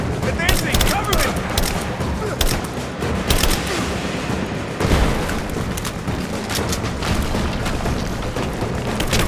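Sustained gunfire from the video game Rise of the Tomb Raider, with dense overlapping shots, automatic bursts and occasional heavy booms rolling continuously and loudly throughout a combat sequence.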